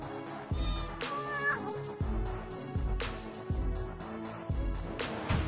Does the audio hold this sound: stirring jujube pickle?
no